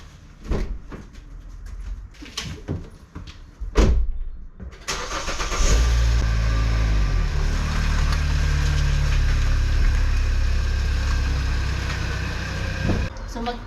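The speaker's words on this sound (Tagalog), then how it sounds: "So, ilabas ko muna itong sasakyan." A car starts up and idles with a steady low engine rumble as it is moved out of a home garage in Finland, following a few thumps and door sounds near the start.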